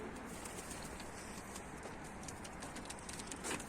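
Soft pigeon cooing rises faintly from a steady background hiss, distant and low, with a slightly louder coo near the end.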